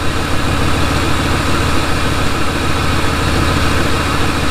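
A car engine idles steadily while being checked with a battery analyzer, a loud, constant low rumble with even vibration and no speech throughout.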